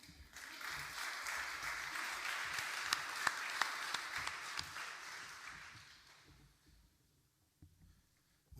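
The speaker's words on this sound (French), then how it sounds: "Vous devriez d'ailleurs l'applaudir." Audience applause at an international cooperation conference, a faint clapping wash with a few sharper individual claps that swells, holds and then tapers off into near silence.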